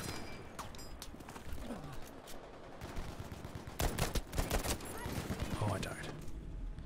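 Rapid bursts of gunfire from a first-person shooter video game, dense and continuous with a heavier volley toward the end, mixed with game effects and a player's voice talking over it.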